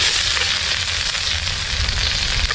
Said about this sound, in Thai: เราก็ผัดครับ ให้ เครื่องเทศของเราเนี่ยหอมก่อนนะครับ